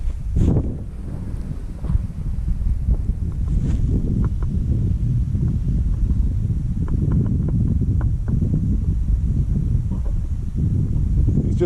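Strong, steady wind buffets the microphone at an airfield on a gusty day, a loud continuous low roar with brief rustling bursts and no clear speech.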